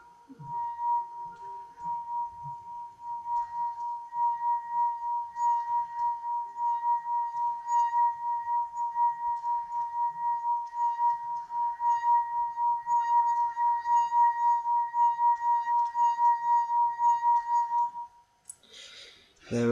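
A wine glass played by rubbing its rim sings one steady, pure ringing tone with faint overtones, sustained loud and unbroken for about eighteen seconds before stopping abruptly, with a brief knock at the end.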